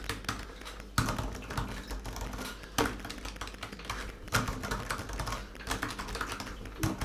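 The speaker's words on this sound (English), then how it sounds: "We also get the 3rd generation Butterfly keyboard." Rapid typing on a MacBook's third-generation Butterfly keyboard, a dense run of crisp, fairly loud key clicks with occasional heavier strokes, close up and with no talking.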